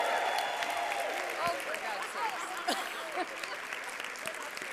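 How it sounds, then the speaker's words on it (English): Keynote audience breaks into applause, a dense burst of clapping with a few cheers that fades slightly over a few seconds. "Round of applause."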